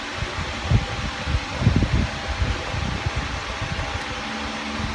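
An electric fan runs close by in a hot room, giving a steady, even whoosh of rushing air with a low rumbling hum underneath and no voices.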